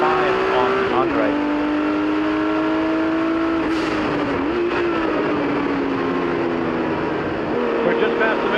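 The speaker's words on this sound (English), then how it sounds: "But Bruce Canepa in that white Porsche 935 number 12 is coming." A white 1979 Porsche 935 race car, number 12, roars past at speed on a racing circuit, its loud engine note sustained and shifting in pitch, with a commentator talking over it.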